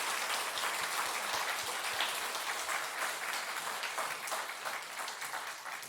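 A church congregation at a Christmas Day worship service applauds warmly, a continuous, moderately distant roar of many hands clapping together without speech.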